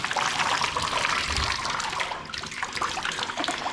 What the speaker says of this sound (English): we're gonna get a little bit of splashing with water just falling down rather than being pushed up against the screen